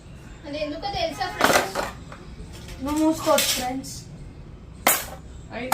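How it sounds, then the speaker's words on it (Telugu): A young boy scrubbing dishes, with clinks and scrapes of pots and cutlery in short bursts between children's and adult chatter close by. "ఏ గౌతమ్ గిన్నెలు తోముతావా?"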